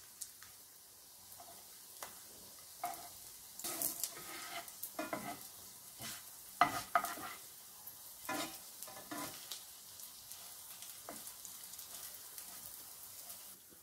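Balls frying in a pan while being flipped, a faint continuous sizzle with scattered light scrapes and taps of a utensil, quiet and close.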